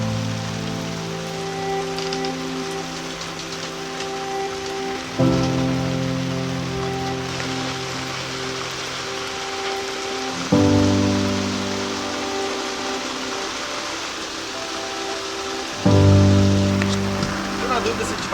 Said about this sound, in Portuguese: Mas estava chovendo tanto que preferi parar aqui antes.